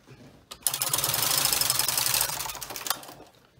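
A double-bed knitting machine carriage is pushed across in one sustained, loud, close pass knitting a zigzag row, with a rattling mechanical sweep lasting a few seconds before stopping.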